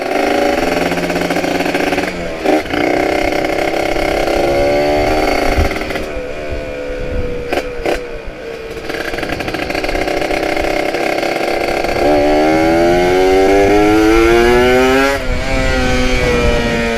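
A Kawasaki Ninja ZX150 motorcycle from Thailand, run on Pertamax Turbo fuel, revs loudly and up close, its engine pitch climbing and falling through repeated throttle blips and brief drops between them.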